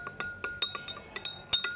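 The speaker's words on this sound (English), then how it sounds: "Now we are going to stir the solution a little." Glass beaker of copper sulfate solution being stirred, giving a string of light, bright clinks as the stirrer taps the glass, irregular and close, with no talk.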